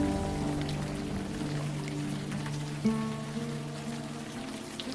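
Pouring rain in the adventure game Unavowed hisses as a steady patter with scattered droplet ticks, and a soft musical tone hums underneath throughout.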